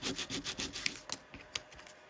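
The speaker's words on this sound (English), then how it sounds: "I just sand off the worst and then leave some little crevices, if you like." Sandpaper rubs over a tiny N gauge model station canopy in short, close, quiet strokes, a rhythmic run of scratchy rasps that thins into a few sparser swipes.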